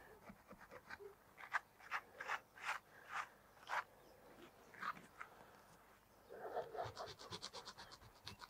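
Knife or file scraping rotten wood out of a tree wound, a run of short dry rasping strokes that repeat irregularly, then a quicker busier stretch of scraping near the end, close and fairly quiet with no talking.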